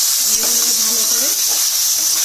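Ground cumin, coriander, garam masala and turmeric sizzle steadily in hot oil, a constant close hiss with a faint stirring scrape and a brief murmur of speech beneath it.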